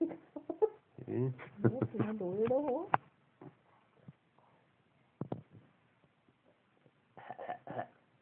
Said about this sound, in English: I'm quite done coughing now.